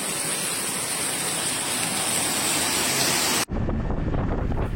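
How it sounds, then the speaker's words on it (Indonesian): Dense, steady roar of heavy rain pouring down, loud and continuous, with a brief dip near the end before the downpour resumes. "Hujan deras banget."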